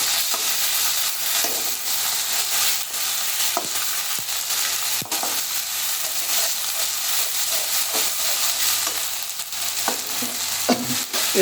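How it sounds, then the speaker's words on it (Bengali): Masala for a rohu fish and potato curry being stirred and fried in a pan: a steady close sizzle and hiss of frying spices with scraping stirring strokes throughout, no talk. "মশলাটা এখন নাড়তে হবে কষাইতে হবে"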